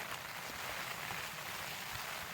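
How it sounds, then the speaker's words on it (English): Steady rain falling on and around a tent on a foggy, windy morning, a continuous dense hiss with no pauses, close and even throughout. "And it's raining now."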